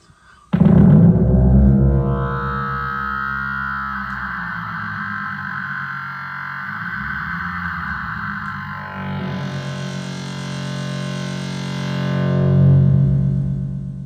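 A bansuri flute through a heavy resonator effect: a resonant tone drones and shifts pitch, with a breathy airy layer swelling in later, sustained throughout without pause.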